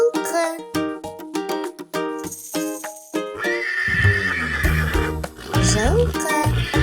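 A horse whinnies loudly after an opening stretch of bouncy children's music, its shrill, shaky neigh rising over the steady backing track, with faint hoof clip-clops mixed in.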